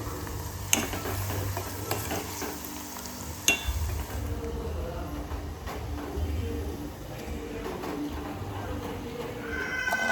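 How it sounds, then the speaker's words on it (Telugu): Tempering sizzles and crackles steadily in a hot pan for mango pickle chutney served with mashed dal, with occasional sharp clinks of a utensil against the pan. "ఇంకే పచ్చడి తాలింపు పెడతా ఇప్పుడు."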